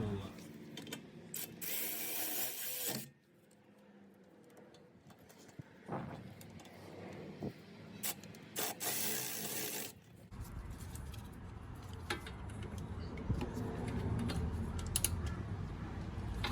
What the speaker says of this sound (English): we'll crank it down in a second and get the proper torque specs